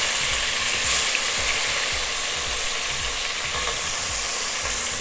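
Oxtails browning in a pot for smothered oxtails and gravy give a loud, continuous sizzle. A faint, regular clicking ticks underneath throughout.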